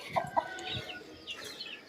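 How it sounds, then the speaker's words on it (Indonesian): Several chickens cluck on a morning walk, a few short nearby clucks and a faint distant call over quiet outdoor background, with no talking. "Wih, ayamnya berapa ini?"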